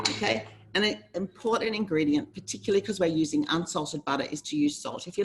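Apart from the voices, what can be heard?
No distinct noise like a dog, phone or traffic.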